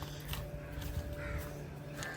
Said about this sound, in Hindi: हाँ तोते जो है ना पीछे शुरू हो जाते हैं।